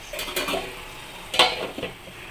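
A lid set down over a pan of frying cluster beans with chilli, two short metallic clinks and scrapes about a second apart, close and clear, with faint sizzling between.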